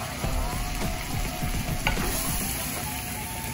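Vegetable stir fry sizzling in a pan with soy sauce, a constant hiss under rhythmic scraping and tossing strokes, close and fairly loud.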